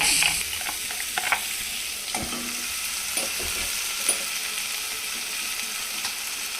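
Chopped onion and tomato fry in a pan with cumin, mustard seeds and turmeric, giving a steady close sizzle broken by occasional scrapes and knocks of a spoon stirring.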